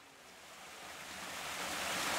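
Cold water ripples and rushes along the Camino pilgrimage route as a continuous broadband wash that swells steadily louder. No voices are heard.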